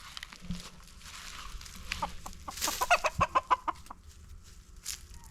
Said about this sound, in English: Here I've got some of these bantams running up thinking I'm gonna give them some food